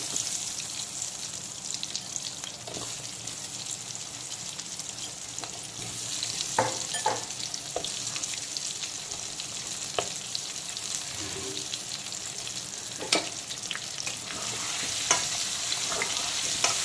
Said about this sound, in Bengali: এখন এই একই তেলে দিয়ে দেব হলুদ মাখানো আলু আলুগুলোকেও খুব ভালো করে ডিপ ফ্রাই করে নেব